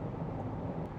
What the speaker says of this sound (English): You can hear the wind noise, you can hear a little bit of tire noise